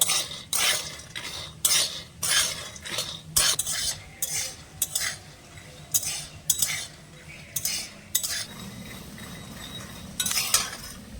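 Raw peanuts dry-roasting in a pan, stirred with a metal spatula in a steady run of scraping and rattling strokes over a faint background sizzle, close and clear with no voices.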